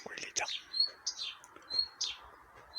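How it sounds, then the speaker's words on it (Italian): Small birds chirp outdoors in a calm natural setting, giving quick high tweets in short bursts spaced about a second apart, soft and fairly distant over a faint low background hum. "Che concerto, Gli uccelli."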